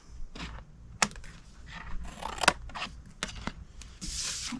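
Scissors snip through cardstock for a treat box in a series of sharp, irregular close cuts and crisp paper rustles, quiet and without talk.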